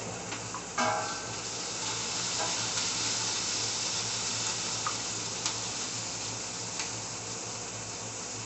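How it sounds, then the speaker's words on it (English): A pot of meatball sauce simmering and being stirred, a steady sizzling hiss with a few soft scrapes and clinks of the spoon, close and even throughout, with no talk. "Let's stir what's in there."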